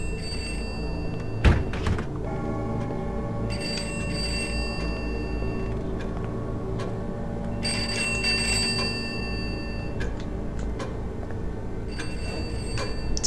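A bell-like telephone rings in a video game, repeated bright trilling bursts over a sustained tonal backdrop, with a sharp thunk near the start.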